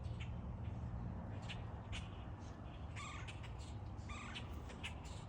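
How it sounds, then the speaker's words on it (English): Wild birds calling from the trees, scattered short chirps and squawks repeating over a steady broad outdoor hiss, moderately distant and faint. "Birds, birds, and more birds. I got birds all over the place here"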